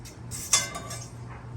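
A well-used, smooth cast iron skillet with butter in it on a stove, giving one sharp metallic clink amid softer faint scrapes and knocks over a low background hum.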